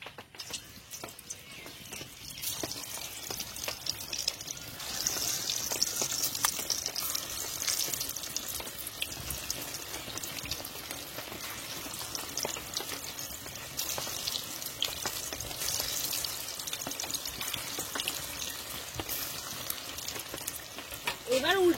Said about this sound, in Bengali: তেল গরম হয়ে গেছে, এবার আমি একটা একটা করে দিয়ে দেব